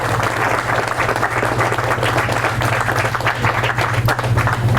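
Audience applause for a bass fishing angler at a high school bass fishing event, steady dense clapping from a large crowd throughout, loud and continuous with a low hum beneath.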